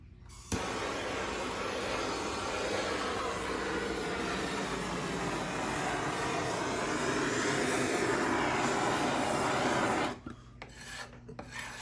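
A MAPP gas torch burning at a beekeeping yard, giving a steady, loud roaring hiss that starts abruptly and holds for about ten seconds before cutting off, leaving faint background noise.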